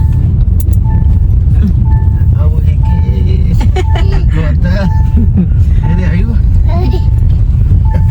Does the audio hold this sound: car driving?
yes